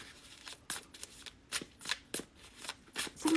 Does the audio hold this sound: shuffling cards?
yes